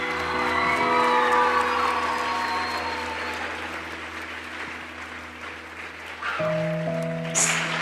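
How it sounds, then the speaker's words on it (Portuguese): A church congregation applauds together through an evening youth service, steady dense clapping with some cheering filling the room throughout, while sustained music plays underneath. "Aplaude o Senhor, igreja, nessa noite."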